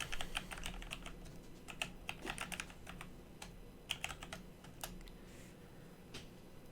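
Typing on a computer keyboard during a coding tutorial, quick bursts of light close keystrokes with short pauses between runs, soft and clicky in a quiet room.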